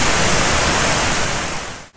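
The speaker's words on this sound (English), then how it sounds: "follow the river round, because obviously the river is being fed by the waterfall" A river fed by a waterfall in the Langdale valley rushes loudly and steadily up close as a dense, unbroken roar, cutting off abruptly at the very end.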